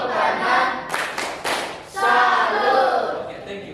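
A classroom of students claps in unison through a 'tepuk salut' clap routine, a short burst of loud rhythmic claps near the middle amid voices chanting along.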